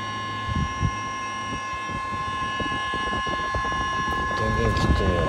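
An EcoFlow WAVE2 portable air conditioner, a repaired reuse unit, emits a strange steady hum with a tonal whine, close to the microphone, while someone speaks over it.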